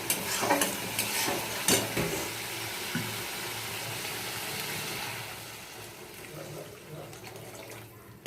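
Water poured into frying spices in a pan sets off a loud hiss and sizzle with scraping stirs, the sizzle gradually settling into a softer, steady simmer.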